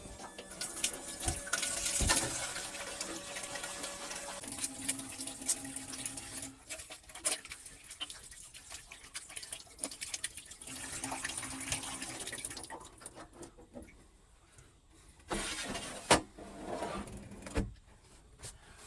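Water runs from the tap of a small pull-out sink in a tiny handmade house, a steady close splashing stream with clunks and handling noises near the end.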